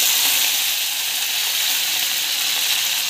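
Mustard seeds, ginger and green chilies frying in hot oil give off a steady, loud sizzle that holds unbroken throughout, with no voices.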